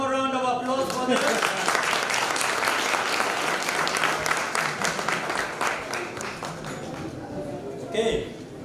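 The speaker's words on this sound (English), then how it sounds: "one more round of applause for them." Audience at a Japanese speech contest in Kenya giving a loud, sustained round of applause after a brief voice at the start, tapering slightly with a short voice near the end.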